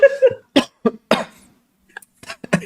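Several sharp coughs come in quick bursts, close and loud, with short pauses between them and a softer cough or two near the end.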